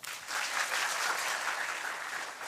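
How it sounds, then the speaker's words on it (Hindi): Audience clapping at a devotional gathering, a steady dense burst of many hands applauding together for a couple of seconds, moderately distant and without talk. "ताली तो बजा दिया करो।"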